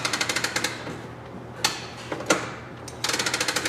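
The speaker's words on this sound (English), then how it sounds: "So what that's doing is it's ratcheting the e-brake so that can get used to the new brake pads" A Dodge Grand Caravan's screw-adjuster parking brake is pumped repeatedly after fitting new rear brake pads, giving quick runs of sharp ratcheting clicks at the start and end with a few heavier clunks in between.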